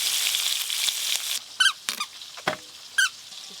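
Koi fish, a live climbing perch, fries in shallow oil in a pan, a steady bright sizzling hiss broken by several sharp squeaky spits and pops close by, with no talking.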